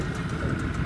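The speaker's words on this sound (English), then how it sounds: "So still this motor runs just fine, idles away nicely." A modified 5hp outboard motor idling on a drifting boat, a steady low rumbling engine note, close and continuous without any talking.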